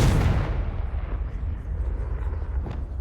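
A Confringo spell blast in Hogwarts Legacy, played on Xbox Series X, lands as a loud, close burst at the start and rolls into a long, deep rumbling decay.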